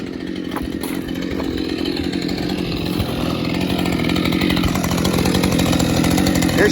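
Stihl MS211 chainsaw idling and running through its break-in heat cycle, a loud, steady, buzzing two-stroke drone held close for the whole stretch, rising slightly toward the end.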